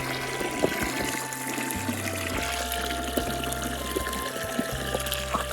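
Mountain stream water flows and trickles steadily at a moderate level at a hut in Tarum, with a low pump-like hum underneath and no speech.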